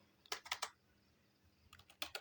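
Faint computer keyboard typing in two short bursts of three or four crisp keystrokes each, separated by a quiet pause, with no talking.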